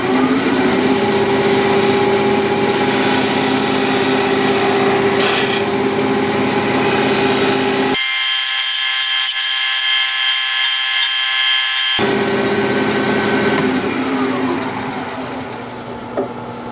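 A wood lathe turns and flattens the top of a wooden piece, giving a steady close scraping and rubbing whir that thins out briefly in the middle before resuming.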